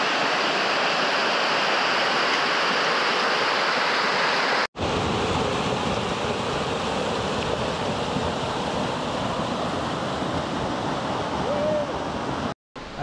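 Florence Falls in Litchfield National Park pours in a steady, dense roar of falling water, loud and continuous, broken by two brief dropouts, with no voices heard.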